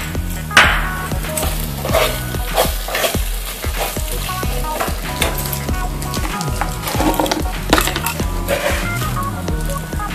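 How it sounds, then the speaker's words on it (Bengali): Spice mix with chopped green chili, salt and sugar fries in hot oil, a steady loud sizzle broken by repeated scraping stirs and clanks of a spoon against the pan, with no talk. "প্রয়োজন মতো নুন আর চিনিটাও আমি দিয়ে ভালোভাবে কিন্তু মশলাটা ফ্রাই করে নিচ্ছি"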